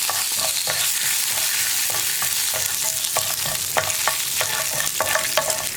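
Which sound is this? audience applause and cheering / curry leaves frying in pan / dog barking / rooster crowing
curry leaves frying in pan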